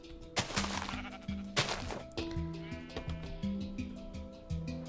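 Sheep in a video game give repeated bleats, several wavering, nasal calls in a loose rhythm, mixed with a couple of sharp percussive knocks and light background music.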